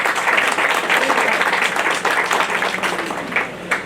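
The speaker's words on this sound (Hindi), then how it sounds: "सबने एक बार ताली बजा दी।" A seated crowd at a public gathering claps together, a full, continuous round of applause that stays strong before easing slightly toward the end.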